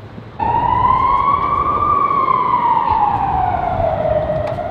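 A loud emergency vehicle siren in Lisbon wails continuously, its pitch rising and falling in a slow sweep, close by over steady traffic rumble.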